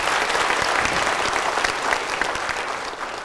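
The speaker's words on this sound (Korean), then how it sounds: "이 새벽 예배 오는 여자들을 위해서 박수 좀 쳐줘." Congregation at an early-morning church service applauding, a dense, steady wash of many hands clapping at close range for about three seconds with no talk over it, easing slightly at the end.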